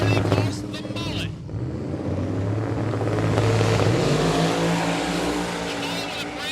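A twin-turbocharged ex-big-block Camaro and Cleetus McFarland's Mullet launch side by side in a drag race, their engines roaring loudly and climbing in pitch under an announcer's commentary.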